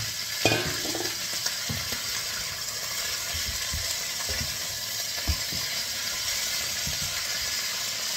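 Pork for kare-kare sizzles and fries in a pan with a steady, loud, close hiss, while occasional stirring scrapes and knocks of a utensil against the pan punctuate the sizzle.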